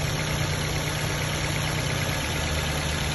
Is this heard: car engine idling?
yes